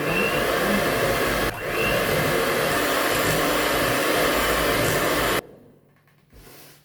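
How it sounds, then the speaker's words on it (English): Electric stand mixer creaming sugar and butter for a chocolate cake batter, a steady loud motor whir running continuously with one brief dip, then switching off to quiet room sound. "we are going to stop the mixer from running"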